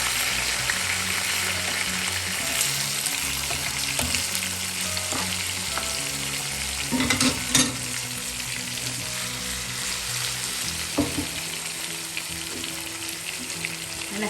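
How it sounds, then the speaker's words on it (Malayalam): Pearl spot fish frying Kerala style in hot oil over high flame with curry leaves, a steady dense sizzle with occasional louder pops and crackles, close and continuous with no talk. "നല്ല ഹൈ ഫ്ലെയിമിൽ തന്നെ അത് ഫ്രൈ ആവും."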